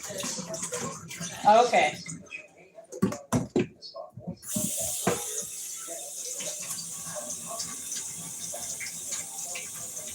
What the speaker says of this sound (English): And it looks like that rice is gonna have to be drained too.